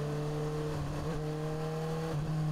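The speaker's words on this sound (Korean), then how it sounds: "단수를 밑으로 내리면은 엔진 브레이크가 걸리거든요" Steady motorcycle engine drone with a sustained tonal hum that shifts pitch briefly as the rider downshifts and engine braking slows the bike, moderately loud and close.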